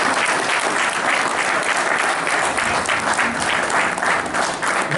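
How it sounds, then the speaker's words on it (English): An indoor audience at a Tuskegee Airmen Day event gives a speaker a steady, dense round of clapping that runs loud and unbroken throughout. "another round of applause"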